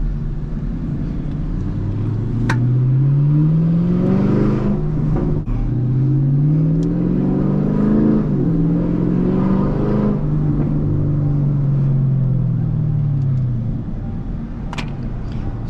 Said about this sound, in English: Woo, I love this exhaust.